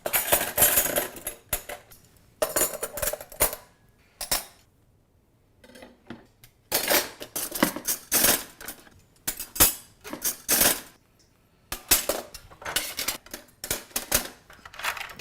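Metal cutlery being placed into an angled kitchen drawer organizer, with repeated bursts of clattering and clinking in close, loud clusters separated by short quiet gaps.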